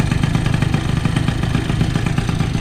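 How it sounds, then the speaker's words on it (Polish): Piaggio Zip 50cc two-stroke scooter engine idling unevenly with a steady rattling clatter, loud and close, alone with no talk. "I słuchajcie jak klekocze silnik, już nawet ja to słyszę."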